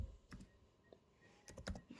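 Typing on a computer keyboard while entering a search in a Chrome browser on Windows 11: a few brief, separated key clicks in short clusters, close and quiet, with no talking.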